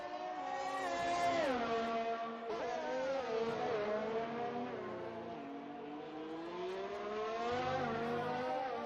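Racing Point Formula 1 car engine in a racing video game at Japan, a high-pitched, moderately quiet whine that climbs and drops through gear shifts and braking in a continuous onboard drone.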